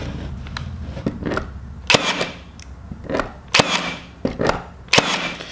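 A Hitachi 18 gauge cordless battery nailer fires nails in a series of sharp, loud snapping cracks, about six shots spaced irregularly, with lighter mechanical clicks and handling noise between them.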